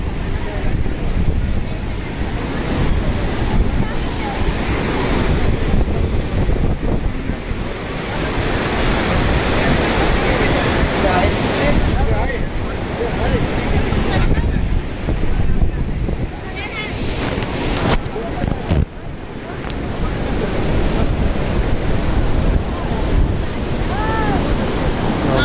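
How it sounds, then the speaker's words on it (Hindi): Hot spring water gushes out at the Manikaran gurudwara in Himachal Pradesh, a loud continuous rushing roar of water with wind buffeting the microphone throughout. "चलो दिखा दूँ, गर्म पानी निकल रहा है।"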